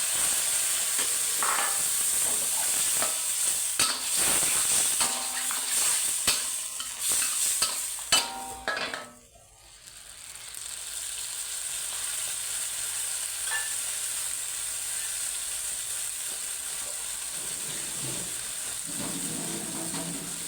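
Fish and soft tofu are stir-fried in a hot wok with a steady loud sizzle and spatula scrapes for the first half, then a softer, quieter simmering hiss.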